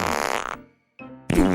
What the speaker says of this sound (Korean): 마지막으로 힘껏 방귀를 뀌었어요.